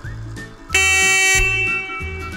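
Vehicle horn sounding at an energy museum in Łaziska Górne, a loud sustained blast of about half a second amid rhythmic low mechanical thumping, with faint chatter around.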